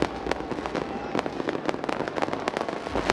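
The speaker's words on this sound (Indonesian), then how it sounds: "sudah melayangkan dan juga meluncurkan pesta kembang api" Fireworks pop and crackle in rapid, irregular bursts at a New Year's Eve celebration in Indonesia, distant bangs overlapping into a busy, sputtering display.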